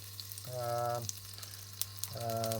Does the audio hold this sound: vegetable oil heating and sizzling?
yes